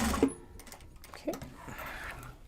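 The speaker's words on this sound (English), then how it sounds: "to make sure I can actually get my foot onto the thing to sew it." A sewing machine stitches a Japanese fabric bag, with short bursts of mechanical running broken up by pauses and spoken comments close by.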